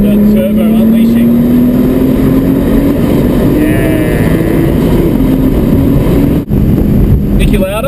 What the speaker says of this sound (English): now we're going to hear the beautiful sound of the turbo unleashing